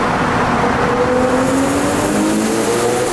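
V12 car engine revving hard, a loud, close, sustained roar with rising and falling engine pitch throughout, no voices over it.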